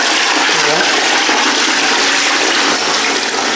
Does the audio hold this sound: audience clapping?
no